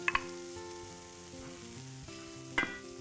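Chopped red onion sizzles and crackles in hot olive oil in a frying pan, with a couple of sharp scraping clinks at the start and again near the end.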